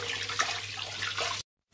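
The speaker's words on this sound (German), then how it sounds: "gut die Hände waschen" Running tap water splashes steadily while hands are washed at a kitchen sink before cooking spaghetti carbonara, a close continuous hiss that stops abruptly near the end.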